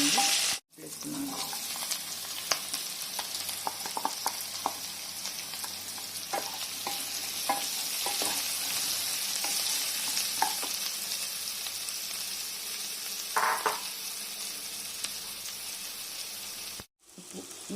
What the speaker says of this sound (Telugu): పచ్చిమిర్చి, కొంచెం లైట్గా వేయనిద్దామండి. వేస్తున్నాను.